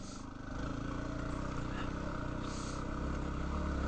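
Motorcycle riding along on a Colorado mountain pass, a steady close engine drone with a low rumble and wind noise that swells slightly in the first half second and then holds even.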